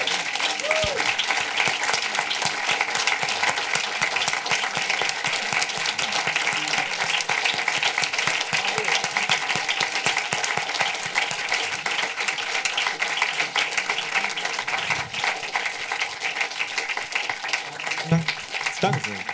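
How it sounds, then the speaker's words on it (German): A cinema audience applauds at the close of a long silent mountain film screening, dense sustained clapping filling the room for about twenty seconds, with voices and cheers mixed in. "Großen Applaus"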